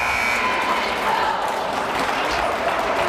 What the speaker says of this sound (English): loud crowd for Somerville right next to you